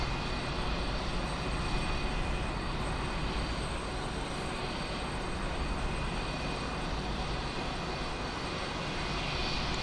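Steady, loud aircraft engine roar from a plane taking off on a taxiway in Microsoft Flight Simulator 2020, a continuous broadband drone holding constant for the whole stretch with no voices.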